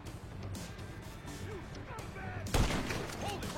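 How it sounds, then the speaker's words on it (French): A single sharp sniper rifle shot rings out in GTA 5, a loud burst near the end over a busy backdrop of game ambience and faint distant shots, with talk underneath. "Je vais le neutraliser au sniper."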